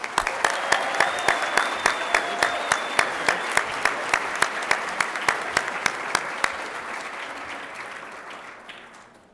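Audience at a 2017 convocation applauding an honoree, a sustained burst of dense clapping with a few sharp, regular claps standing out, fading off toward the end.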